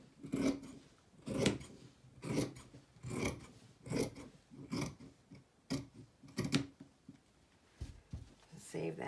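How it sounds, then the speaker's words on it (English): Scissors snip through the cotton of a men's shirt being cut into a boho duster, a series of close, rhythmic crunching cuts about every half second to a second. "I'm just gonna cut where that's at."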